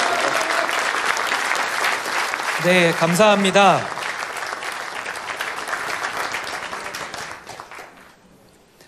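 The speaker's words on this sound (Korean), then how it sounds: "다 같이 박수 부탁드리겠습니다." A crowd at a Korean political party presidential nominee event claps steadily after a speech, with a short spoken remark in the middle, then the applause thins and fades toward the end.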